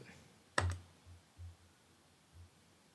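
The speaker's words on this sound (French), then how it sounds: "Donc là, je vais cliquer sur Save." A single computer mouse click on a Save button, close and crisp, with a few faint low thumps after it in an otherwise quiet room.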